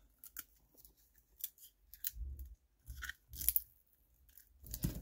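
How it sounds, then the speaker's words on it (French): Scissors cutting open the packaging of rolls bought from Temu: a few quiet, close snips and crinkly crunches spread irregularly over several seconds, with no talk. "si je prends une paire de ciseaux"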